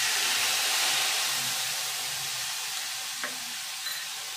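Spice paste sizzles steadily in a hot pan for doi potol posto, a constant close frying hiss with faint stirring underneath and a couple of small clicks near the end.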